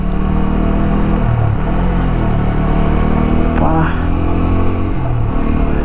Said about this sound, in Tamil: you feel that engine sound